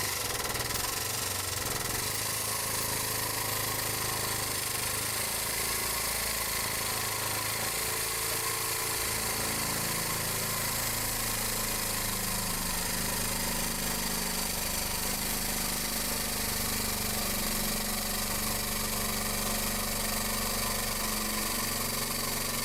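Heavy, fully loaded Ford Transit van idling nearby in a workshop, a steady, low, even engine drone with a faint mechanical rattle running unchanged throughout, with no talk.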